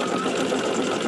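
A sewing machine runs stitching through fabric during a quilting project, a short, steady, close mechanical whir with no pauses or voices.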